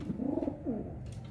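A racing pigeon coos nearby in two soft, rolling throaty phrases, moderately loud and alone, with no talking.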